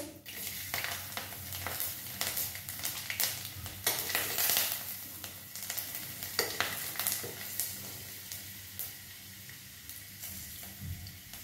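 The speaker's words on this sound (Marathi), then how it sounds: "हा एक छोटा कांदा चिरून घेतलाय, तो घालतोय।" Chopped onion tipped into hot oil with curry leaves and rough-cut garlic for a green moong bean curry, frying with a steady close sizzle and scraping stirs, no talking.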